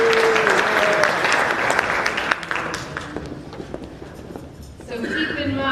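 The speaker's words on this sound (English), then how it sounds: "big round of applause" An audience gives a loud burst of applause at a community town hall, clapping densely at first, then thinning and fading, with a voice talking over part of it.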